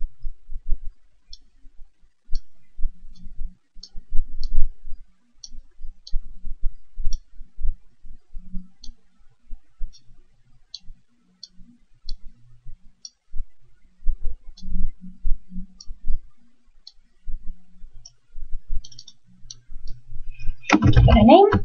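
A computer mouse clicks in software while a table row is added, giving sparse, light, scattered clicks over a quiet background, with a short louder burst of noise at the very end.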